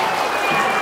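An audience at an Indonesian school talk breaks into applause, a brief dense wash of clapping heard close and steady.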